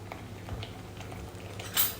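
Spoon stirring tomato ketchup into tomato pasta sauce in a pan, faint soft scraping and a couple of light metallic clinks, ending with a brighter clink near the close.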